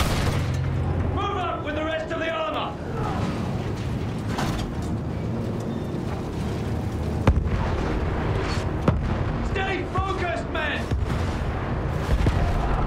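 Field gun artillery blasts in the World War I shooter Battlefield 1, heavy booms and gunfire in dense, loud battle noise with voices talking over the action throughout.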